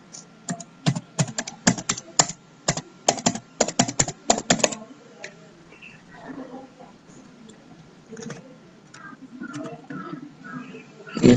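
Rapid bursts of keystrokes on a computer keyboard while code is entered for an object-oriented programming class, loud and close for about five seconds, then quieter scattered taps and faint room noise.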